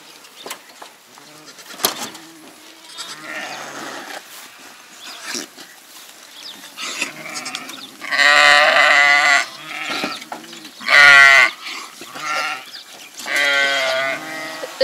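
Sheep in a Kazakh village bleat repeatedly and loudly, several drawn-out calls from close by, with scattered bird calls and someone speaking between them.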